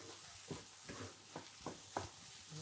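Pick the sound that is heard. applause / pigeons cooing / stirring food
stirring food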